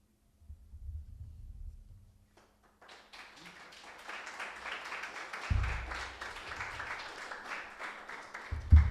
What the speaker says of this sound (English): I love applause